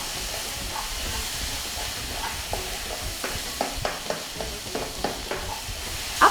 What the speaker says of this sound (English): Keep stir frying this.